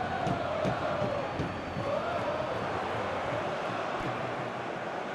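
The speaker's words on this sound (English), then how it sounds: "the crowd have tried to spark some excitement, but to no avail" A video-game stadium crowd in an EA Sports FC24 match between DC United and Inter Miami gives a steady, dense roar with scattered shouts, filling the background evenly without any big swells.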